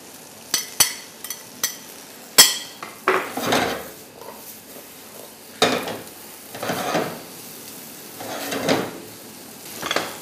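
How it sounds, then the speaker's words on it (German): Fennel added to pumpkin in a pan, with sharp clinks of a utensil against the pan followed by scraping stirs and a soft sizzle, close and irregular without talking. "Im nächsten Schritt fügen wir den Fenchel dazu."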